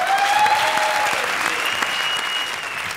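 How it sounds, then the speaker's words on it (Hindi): A studio audience at a Hindi comedy show bursts into loud, sustained applause for a lifetime achievement award tribute, with thin whistle-like tones gliding over the clapping. "जोरदार तालियां"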